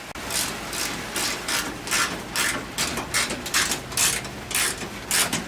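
A hand ratchet loosens 8mm fender bolts on a 1995 Ford Mustang, giving rapid, evenly spaced clicking bursts close up in repeated strokes, with no talk.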